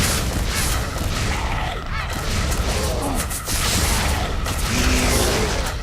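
Rapid-fire shooting in Crimsonland on Nintendo Switch, heard as a loud, continuous wash of overlapping shots and game effects with no break.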